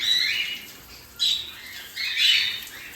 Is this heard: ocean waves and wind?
no